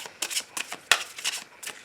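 Tarot cards are shuffled for a love reading, a close series of quick riffling flicks and soft slaps coming in irregular bursts, with no talking.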